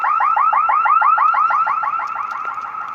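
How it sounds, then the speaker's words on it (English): A building alarm sounds continuously, a loud electronic siren that sweeps rapidly up and down in pitch with a fast, steady warble and no talking. "The building alarm is going off and they are occupied inside of the building."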